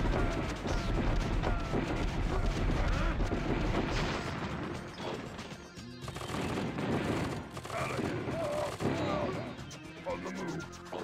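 Sustained, heavy gunfire from an anti-vehicle gun in the strategy game KKND2: Krossfire, with repeated blasts and crashes in a dense battle mix, while a voice talks over it.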